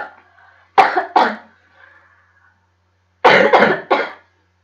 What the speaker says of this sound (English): I've got a bad cough